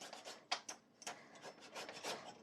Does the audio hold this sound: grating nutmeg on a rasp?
yes